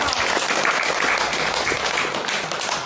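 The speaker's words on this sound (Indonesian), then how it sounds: "tepuk tangan ya" An audience at an Indonesian religious sermon breaks into dense, sustained applause, loud and full throughout, with no speech on top.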